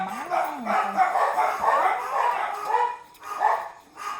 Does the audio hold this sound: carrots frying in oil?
no